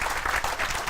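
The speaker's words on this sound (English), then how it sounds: "could you just stand up and take a round of applause?" An audience at a tech conference's lightning talks session claps for former Perl Mongers group leaders, a short, uneven burst of applause with some louder pulses.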